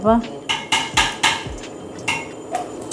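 Vegetables are chopped on a board for a Pongal dish: a quick run of about eight sharp, close knocks with a knife, evenly spaced and fading slightly toward the end.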